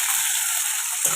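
Tomatoes go into a hot pan of frying potatoes for a spicy Bengali fish curry, giving a loud, steady, close sizzle throughout with no talking.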